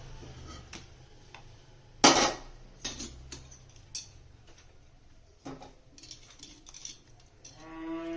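Clinks and scrapes of a utensil against a ghee-greased plate as banana barfi mixture is spread and levelled, with one sharp metallic clatter and scattered lighter taps in a quiet kitchen.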